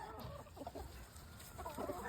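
Hens out in a farmyard cluck softly in short, scattered bursts, quiet and a little distant, with no talking.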